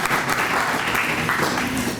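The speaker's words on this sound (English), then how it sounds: "Can I get a round of applause?" A room full of parents applauds at a talk for preschool parents, steady dense clapping at moderate level throughout, with no voices over it.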